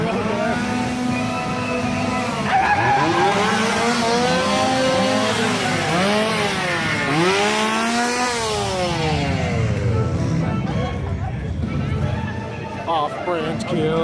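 Roaring, revving chainsaw at a Halloween Horror Nights scare zone, rising and falling in pitch over a loud, crowded background with voices throughout.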